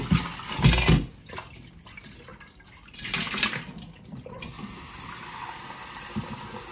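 Water runs from a tap and splashes during rinsing, starting and stopping in bursts, then settling into a softer, steady trickle. No one speaks.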